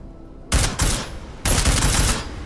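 Gunshots in the video game Deus Ex: Mankind Divided: two close, loud bursts of fire, a short one followed after a pause by a longer, sustained volley, with no talk.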